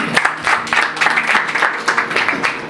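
Loud, rhythmic clapping from a gathered crowd at an Iftar prayer meeting in a pastor's house, close and lively in uneven bursts.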